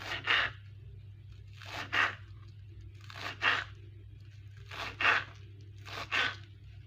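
A knife finely chops green onion tops into small dice for a holiday salad, close-up: six crisp, crunchy cuts at a slow, even pace, each one separated by quiet, with no voices.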